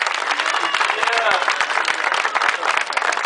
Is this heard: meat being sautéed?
no